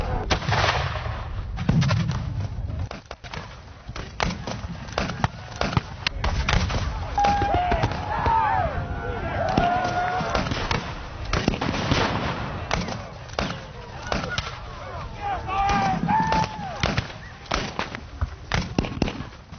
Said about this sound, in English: A direct hit took out the Mexican store of gunpowder and munitions.